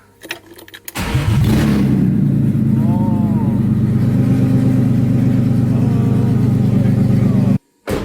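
A swapped-in engine in a BMW fires up after a short cranking and settles into a loud, steady idle for several seconds before cutting off briefly.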